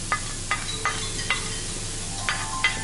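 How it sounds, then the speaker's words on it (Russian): Carrots and beets frying in a pan with onion for borscht, a soft constant sizzle broken by a series of quick stirring scrapes at uneven intervals, near and moderately quiet with no speech. "Отправляем сюда морковочку и бурячок. Вот. И все это хорошенечко обжариваем."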